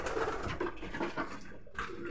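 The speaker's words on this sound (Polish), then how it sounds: "Przyjemne gołębie będą." Young domestic pigeons, including Budapest pigeons, coo softly in a loft in a few low repeated calls, faint and close, with some background rustling.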